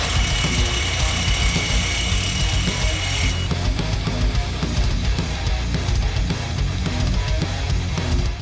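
A hand ratchet works loose the exhaust bolts on a car during a rear disc brake swap, a rapid steady clicking that runs nearly continuously and close up, with no one speaking.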